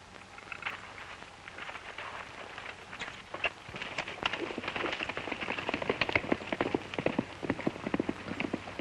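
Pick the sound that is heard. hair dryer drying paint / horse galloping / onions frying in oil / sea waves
horse galloping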